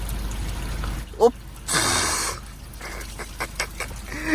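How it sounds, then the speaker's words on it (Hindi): Dirty water is poured over a person's body outdoors after rain, heard as a short splashing gush between bursts of nearby talking and laughter. "वो गंदा पानी शरीर पे मत डाल"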